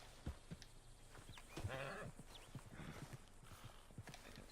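Horse hooves clip-clop steadily in the video game Red Dead Redemption 2, mid-distance and fairly faint, with a short snort or whinny-like sound and soft ambient outdoor noise.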